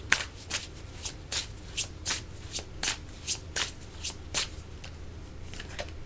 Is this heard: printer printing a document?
no